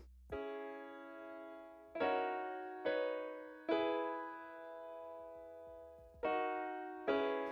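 A dry, quiet piano strikes a handful of sustained chords one at a time, each ringing out and fading before the next, with no added ambience.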